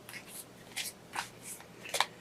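Tarot cards are shuffled by hand in several quick, soft riffling bursts, close and fairly quiet, with no talking.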